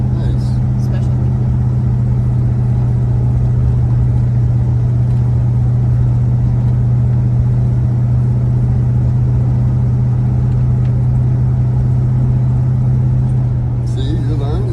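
A 1973 Dodge Charger engine drones steadily while cruising at around 40 mph, a loud, continuous low hum with no gaps, and people talk over it through much of the drive.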